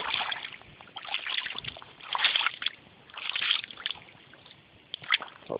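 Footsteps wading through shallow, warm sea water at a beach, with soft rhythmic sloshing and splashing at close range, rising and falling with each stride, and no voices.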